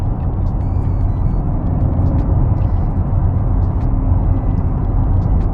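Acura RDX A-Spec engine running steadily in Sport Plus mode, its automatic transmission downshifting on its own, a loud continuous low rumble of road and cabin drone with no clear rev spikes.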